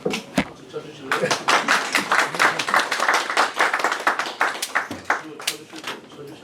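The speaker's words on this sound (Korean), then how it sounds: "박수 쳐주실래요?" Reporters and attendees at a city mayor's press conference clap for several seconds, a brisk burst of moderately loud applause after a short pause.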